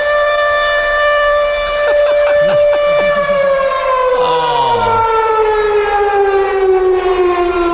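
An air raid siren sound effect plays as a show's alarm, a loud, close wail whose pitch slides downward partway through. A brief spoken exclamation is heard over it.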